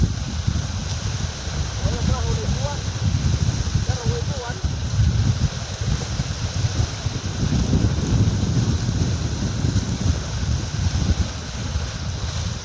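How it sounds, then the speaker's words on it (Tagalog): Powerful ocean waves crash and roll near a small boat, a steady loud low-end roar with wind rumble on the microphone and someone talking over it at times. "Yan, sasabong yung mga alon"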